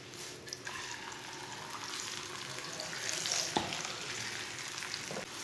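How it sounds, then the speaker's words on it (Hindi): An aloo paratha fries in oil on a hot tava over a medium flame. A quiet, continuous crackling sizzle runs throughout, with one sharp tap partway through. "तवे को अच्छी तरह गर्म करके चूल्हे की आंच को ना मीडियम रखना, फिर पराठा बनाना।"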